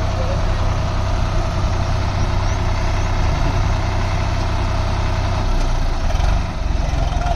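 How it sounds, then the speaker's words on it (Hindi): A Swaraj 855 tractor fitted with a loader runs its engine at a steady, heavy idle, a loud, close, low rumble that holds without a break. "ट्रैक्टर घूम गया भाई एकदम से लोडर लगाने से"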